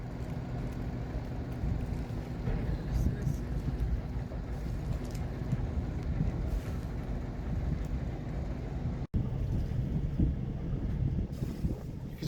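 A sailboat motors out of the harbour at Brindisi, Italy, giving a steady low engine and water rumble under gusty wind noise on the microphone, with a brief dropout near the end.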